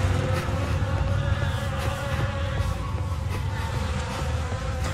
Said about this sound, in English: The air is heavy with the stink of rot and the buzzing of those damned insects.